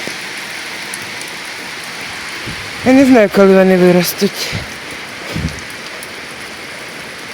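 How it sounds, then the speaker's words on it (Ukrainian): Steady light rain patters throughout, with someone speaking briefly over it partway through. "От невеличкий дощ, а вже починає калюшка образовуватися."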